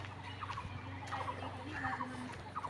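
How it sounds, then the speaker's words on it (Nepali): A kuthurke bird calls in the Queen's Forest, Kathmandu, with repeated faint harmonic calls among other distant birds and soft ambient forest noise. "कुथुर्के भन्ने चरा कराइराखेको छ।"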